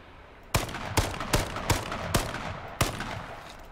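Gunfire in the battle royale game H1Z1, six sharp shots spaced roughly every half second, each with a short decaying tail, fairly close and with no talking over them.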